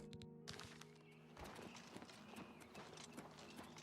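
Horse hooves clip-clop steadily on a road in Oblivion Remastered, a rhythmic series of close hoofbeats at a walking pace, faint and alone.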